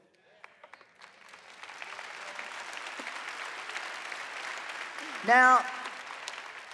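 A church audience claps through a sermon, the applause building from scattered hand claps into a steady, moderate wash before a voice briefly speaks over it.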